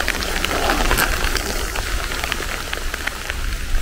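Steady rain falls during a hike at Shiretoko Five Lakes, a brown bear habitat in Japan, with a continuous hiss and scattered drops pattering on nearby surfaces and no talking.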